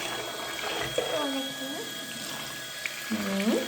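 Water splashing as a Hello Kitty toy is bathed in lit-up water, soft trickling and sloshing close by with squeaky tonal swoops from the toy, all fairly quiet.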